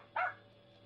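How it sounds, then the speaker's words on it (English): A single sharp dog bark in an old-time radio suspense drama, brief and fairly close, followed by a quiet tail. "Jeff, you fool dog! Come back here!"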